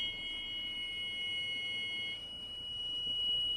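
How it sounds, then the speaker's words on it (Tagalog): A ship's Tokyo Keiki autopilot off-course alarm sounds a steady high-pitched electronic tone, buzzing continuously without a break, moderately loud over faint background noise. "mag-a-alarm yung ating of course alarm"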